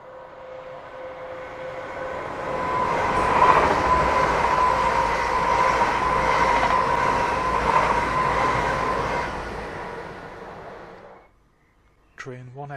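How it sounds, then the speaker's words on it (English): An LNER Azuma bi-mode train, unit 800-103, passes through Alnmouth station with a loud sustained roar and rail rumble that swells and fades over about ten seconds, followed by a near silence and a brief voice at the end. "This is LNER Azuma number 800-103, which is a bi-mode unit suitable for use on the route north of Edinburgh."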